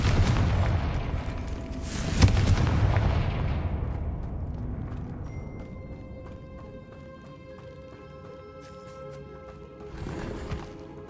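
The Confringo blasting spell goes off in Hogwarts Legacy with a sharp explosive burst and a rumbling tail that fades over several seconds, followed by a softer later blast, with game sounds between and no talk.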